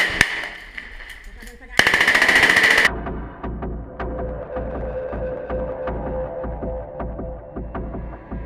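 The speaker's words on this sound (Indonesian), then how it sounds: "perlawanan langsung meluncurkan tembakan bertubi-tubi ke arah musuh" Fighters fire a rapid burst of gunfire toward soldiers, a close, dense rattle of automatic shots followed by a long train of steady, rhythmic reports over a low rumble.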